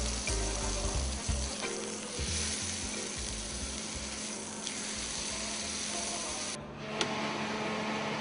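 Meat sizzles and crackles steadily in a hot pan, a continuous frying hiss with small pops and a few clicks of movement, close and unaccompanied by speech.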